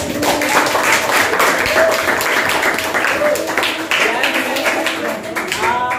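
A school class applauding, a dense spell of many hands clapping with cheering voices mixed in, close and lively.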